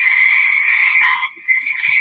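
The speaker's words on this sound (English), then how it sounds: "Hear the bullfrog?" A recorded frog vocalization, part of a set of frog and bullfrog calls played during a cognitive science seminar, forms a loud, steady high trill that dips briefly and then resumes, with no talking.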